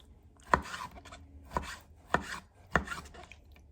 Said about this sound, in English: so I'm over here chopping tomatoes